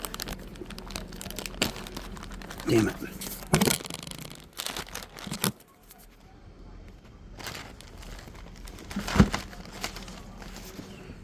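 A plastic bag holding paperwork for commissioning a Jet 1 printer crinkles in bursts as it is handled nearby, with short rustles and a louder crumple near the end, and a voice speaks briefly.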